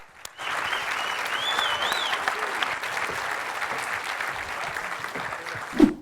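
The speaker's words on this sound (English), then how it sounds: "let's give them a round of applause." Sustained applause from an audience at a live panel with traders, loud and even throughout, a few whoops rising over the clapping before it fades.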